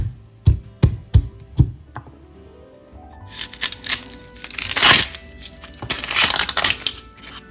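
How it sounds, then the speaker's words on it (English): Garlic cloves are crushed by hand in a kitchen, first as five sharp, separate crunching hits, then as a denser, louder stretch of grinding and cracking up close. "Let's crush the garlic."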